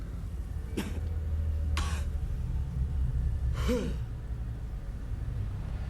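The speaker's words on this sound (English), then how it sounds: "Why are you coughing and she's not, though?" Three short, harsh coughs or gasps from a scene in the film Dune come one after another over a low, steady background hum, with no talking.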